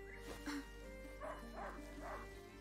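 Hunting dog in the video game A Plague Tale barking in a few short, quiet yaps over a steady background hum, distant and faint.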